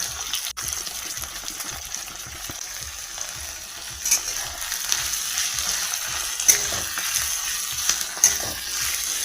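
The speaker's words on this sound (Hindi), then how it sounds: "भूनने देते हैं प्याज को" Sliced onions fry in hot oil with whole spices like cinnamon, black cardamom, star anise, green cardamom and cloves, a steady close sizzle broken by occasional stirring clinks, with no talking.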